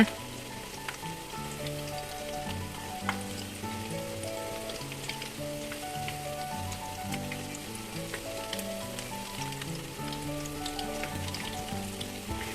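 Thai corn fish cakes (tod man khao pod) frying in hot oil give off a steady crackling sizzle with scattered pops, even and moderately loud for the whole stretch, while faint tonal background music plays underneath and nobody speaks.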